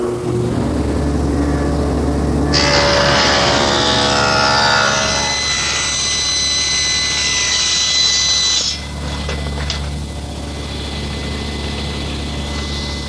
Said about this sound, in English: One more pass through the dado head cutter